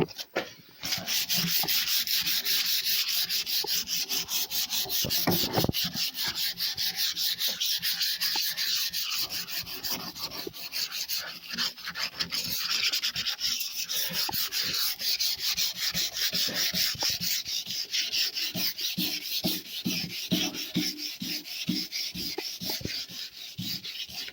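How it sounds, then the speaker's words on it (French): The tailgate of a black Peugeot 306 is sanded in a final pass before painting, a steady close abrasive rubbing with rhythmic back-and-forth strokes that continues without pause and without talking. "Et là, dernière phase de ponçage."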